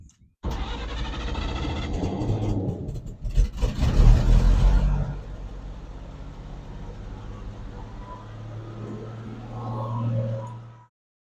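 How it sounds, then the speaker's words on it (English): A carbureted truck engine cranks and catches, revving loudly for a few seconds as it clears excess fuel from flooded cylinders, then settles into a steady, rumbling idle close by before fading out. "Truck started, cleared off the cylinders and all the extra fuel that had dumped in there, and went back to idle."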